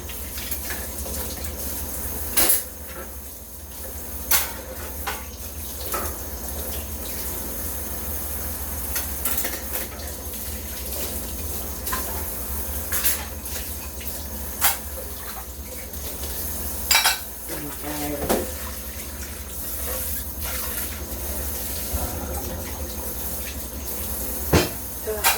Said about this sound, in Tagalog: Tapos din ako maghugas ng aking hugasan.